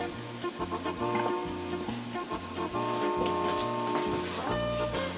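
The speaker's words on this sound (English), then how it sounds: "So we're going to stir them again, make sure they're still breaking down" Vegetables for tomato sauce sizzle in a pan while being stirred, a steady crackling fry under rhythmic scraping, with music playing along throughout.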